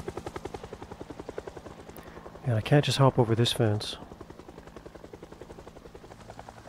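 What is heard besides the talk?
helicopter flying overhead in video game Project Zomboid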